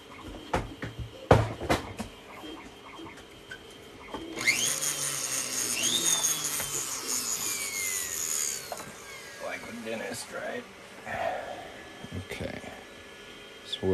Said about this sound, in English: turn the flex shaft on.